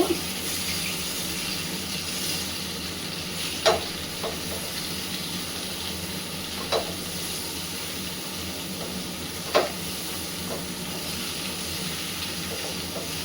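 Mango pickle frying and sizzling in a pan as it is stirred, a steady hiss of oil with a few sharp scraping clicks from the spoon at intervals, close and moderately loud with no talking.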